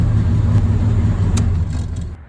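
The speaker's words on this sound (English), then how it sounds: "This is the best this thing has ever idled." Jeep Comanche Eliminator engine idling close up, a low, even rumble with a slight rhythmic pulse, steady and loud before easing off at the very end.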